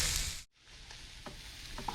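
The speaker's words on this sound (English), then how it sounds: "I'm trying to shake the pan" Sand mullet frying in a pan that is being shaken, a steady hiss and sizzle with a brief drop-out near the start, then soft scrapes and small crackles close by.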